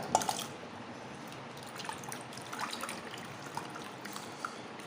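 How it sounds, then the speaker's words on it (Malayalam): Water from a glass is poured over cut potatoes to rinse them for homemade French fries, a quiet trickle and drip with faint splashes against low background hiss, no talking. "അപ്പോൾ നമുക്ക് അടുത്ത ഒരു ഗ്ലാസ് വെള്ളം കൂടി ഒഴിച്ചിട്ട് ഒന്നും കൂടി നമുക്ക് കഴുകിയെടുക്കാം"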